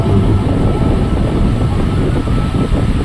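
A Boeing airliner taking off, played as a sound effect for a Ganpati festival tableau display: a steady, loud, dense roar of jet engines filling the whole stretch without pause.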